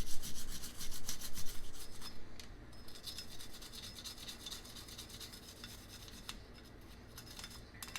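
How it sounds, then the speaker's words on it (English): A brush scrubs inside the slide of an M&P Shield 9 pistol, quick rasping back-and-forth strokes, loud and close at first, then softer and lighter, with no voices. "just scrub everything inside that slide really good"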